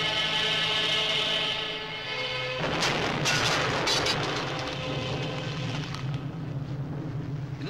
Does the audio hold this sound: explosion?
yes